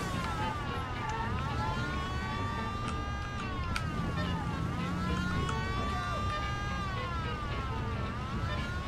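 A police car siren wails in the Mafia video game, rising and falling in repeated sweeps over a steady engine and road drone during a car chase, while someone talks over it.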